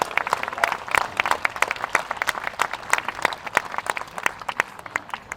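Audience applause at a sheep show featuring nine breeds of sheep during a food festival in Christchurch, a dense patter of many hands clapping at moderate volume for several seconds.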